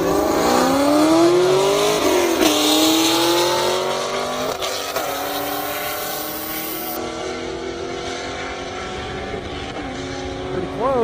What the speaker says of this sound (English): Seth Moore, another Camaro SS up against Tracy.